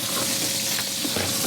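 Skirt steak sears in a hot pan with a steady, dense sizzle that stays loud and even throughout the short stretch, with no voices over it.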